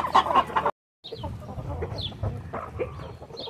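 Several chickens, including giant Indian (Índio Gigante) birds, cluck close by while being fed corn outdoors, a steady run of overlapping clucks and rustling after a brief sharp sound and a short pause.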